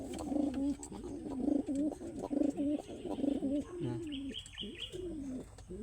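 A pigeon with adenovirus coos in repeated low, throaty, rolling phrases, close and clear, with a few faint higher chirps near the end.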